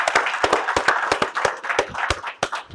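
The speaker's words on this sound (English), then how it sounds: "I want to give you guys again a round of applause for being here" A small morning audience gives a round of applause at a real-estate talk, with sharp, fairly close hand claps in an uneven, scattered rhythm from a handful of people.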